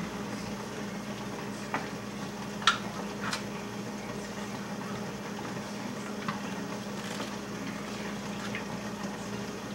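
Sharp cheddar being stirred into macaroni and cheese, giving a steady soft wet churning with a few faint clicks of the spoon against the pot, low and continuous throughout.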